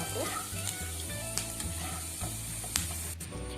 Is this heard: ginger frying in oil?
yes